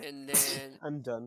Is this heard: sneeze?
yes